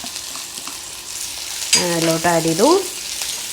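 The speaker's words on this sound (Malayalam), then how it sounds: "ഇതൊരു ലൈറ്റ് ഗോൾഡൻ ബ്രൗൺ നിറായി വരുന്നവരെ നമുക്കൊന്ന് വറുത്തെടുക്കണം" Small onions sliced into rounds fry in a pan for a Kerala-style onion chammanthi, sizzling steadily at close range, with a brief stir partway through and a voice talking over it.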